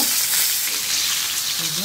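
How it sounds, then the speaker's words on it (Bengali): Fish frying in hot oil in a pan makes a brief, steady, bright hiss, close and fairly loud with no break. "আরেক চুলায় আমি পেন বসাই দিচ্ছি, তেলটা গরম হয়ে গেছে। মাছটা ভেজে নিব।"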